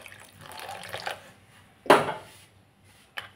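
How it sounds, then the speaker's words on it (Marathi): Water is poured in a short splash into a bowl of sauce mixture with powdered sugar for sweet corn manchurian, preceded by light clinks and followed by a small drip, close and fairly quiet. "आणि आता घालते मी पाणी."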